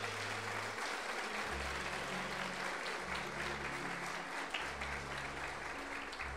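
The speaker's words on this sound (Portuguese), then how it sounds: "Pode aplaudir o Senhor Jesus." A church congregation bursts into dense, sustained applause that fills the room evenly from start to finish, with a low musical tone underneath.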